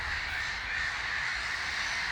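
Several birds cawing and squabbling over one another during a dawn chorus at Whisby Nature Park, against a windy, hissy outdoor background, moderately distant.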